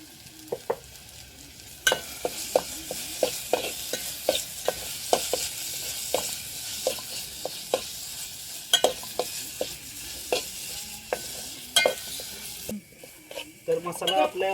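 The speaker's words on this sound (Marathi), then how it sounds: "तर मसाला आपल्या मस्तपैकी भाजून झालेला आहे." Masala spices roasting in a pan for chicken biryani, a low sizzle under a brisk run of regular spatula scrapes and taps against the pan, with heavier clatter near the end.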